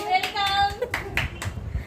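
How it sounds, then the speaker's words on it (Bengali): Children at a Teachers' Day celebration clap their hands in a short burst of several sharp claps, following a child's sustained vocal sound, heard close and fairly loud. "হাততালি"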